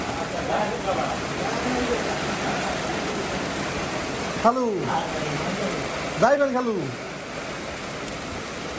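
Steady outdoor rain hisses evenly throughout, with a few people's voices speaking briefly over the downpour.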